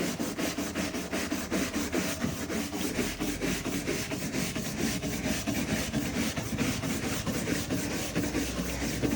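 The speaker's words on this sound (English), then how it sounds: "I'm actually gonna scrub this side to see if there's a difference between that side and this side with scrubbing involved." A stiff brush scrubs the hull of an old boat in fast, steady back-and-forth strokes, a continuous rhythmic rasping close by with no talking.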